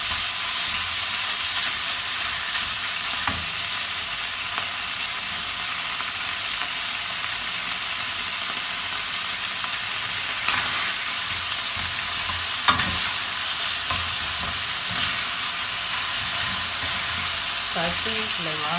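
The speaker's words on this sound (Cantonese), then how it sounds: "牛肉之後咧，唔好喐佢，煎香咗一邊先，然後你先好再嚟炒。" Beef sears and is stir-fried in a wok for a choy sum and beef dish, with a loud, continuous sizzle close by and occasional scraping stir sounds.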